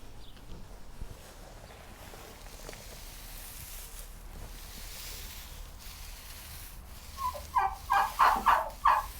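A Bourbon Red turkey hen in a farm barn gives a short series of soft, rhythmic calls toward the end, heard faintly against quiet background noise.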